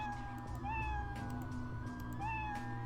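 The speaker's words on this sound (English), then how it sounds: "Of course, he's a cat, so he has this sound." A cat meow from a Scratch sound library plays as a single drawn-out meow, steady and clear, layered over a continuous low hum with rising tonal inflections.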